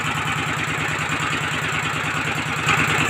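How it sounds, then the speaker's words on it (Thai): An ET engine with a direct piston and a standard injector runs steadily at close range, its rapid even chugging pulses filling the whole stretch with no talk, growing slightly louder near the end. "ET หัวฉีดธรรมดาลูกสูบไดเล็ก"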